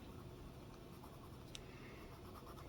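A colored pencil pressed hard onto paper to burnish the pigment, a soft continuous scratchy rubbing close up and very faint, with a couple of tiny ticks.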